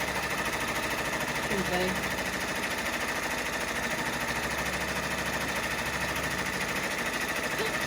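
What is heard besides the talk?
embroidery machine stitching a teddy in the hoop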